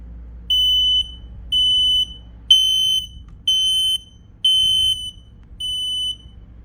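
A P12040 AC smoke alarm under test gives six loud, piercing high-pitched beeps at a steady pace of roughly one per second, with the sound close and unaccompanied apart from a low background hum.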